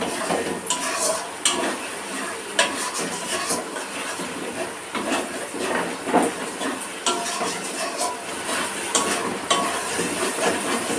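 Masala being stirred and fried in a pan, a continuous sizzling hiss broken by repeated scraping strokes of a spoon against the metal, close and fairly loud with no talking.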